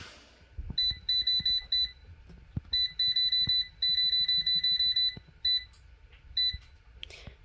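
A kitchen timer beeps while bread toasts, sounding clear repeated clusters of rapid high electronic beeps in several bursts, over faint low background noise.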